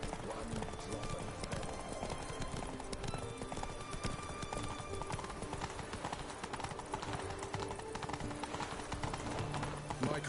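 Roach the horse gallops through The Witcher 3 in a steady clip-clop of hooves, loud and continuous, with game music and ambient effects underneath and a short snort near the end.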